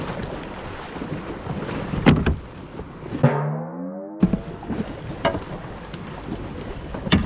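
Wind buffets the microphone as the wake from a passing wake boat sloshes and slaps against a kayak, with a louder splash of wave water midway.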